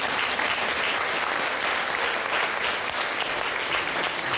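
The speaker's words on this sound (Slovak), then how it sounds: "Potlesk pre ňu, áno." Dense audience applause rings out for a winner at a film-related event, a loud, steady wall of clapping hands that holds evenly from start to finish with no speech over it.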